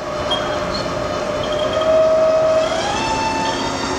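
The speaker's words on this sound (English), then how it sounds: "we're gonna run the machine, the spindle. We're running right now" Spindle of a Haas 16 by 30 inch CNC toolroom lathe with an 8-inch three-jaw chuck, running as a steady, fairly loud hum with sustained whining tones that rise slightly partway through.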